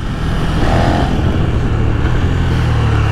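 A KTM 1290 Super Duke R motorcycle engine, 180 horsepower, roars loudly and steadily up close, its deep rumble rising as it accelerates.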